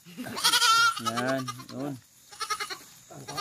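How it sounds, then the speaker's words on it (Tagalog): A two-month-old goat bleats loudly several times at close range just after being castrated and released, while someone talks over and between the cries. "Pakawalan natin mga kapatid yung kambing."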